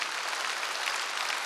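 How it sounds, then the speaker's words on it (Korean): A church congregation at a Wednesday worship service applauds together, a dense, even wash of clapping from many hands sustained without pause, heard alone with no talk over it. "지금 읽은 사람 박수 치라"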